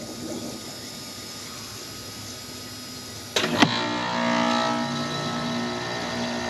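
A Fiat X1/9 electric fuel pump hums steadily at low level, joined by a brief sharp click and a faint swelling whir of fuel returning to the tank, with no talking.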